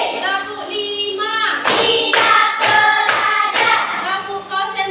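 A classroom group performs a rhythmic counting clap routine with a teacher at an Indonesian elementary school. Sharp clustered hand claps mix with voices, loud and close.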